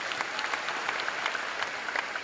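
At a business success-day event, an audience claps in a steady, fairly distant wave of applause, many hands blending into an even patter with a few sharper claps poking through.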